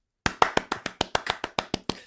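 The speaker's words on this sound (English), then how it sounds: "We have a round of applause for Mike Dix." About a dozen crisp, evenly spaced hand claps ring out close to the microphone after a brief silence, sounding like one or two people clapping alone rather than a full crowd.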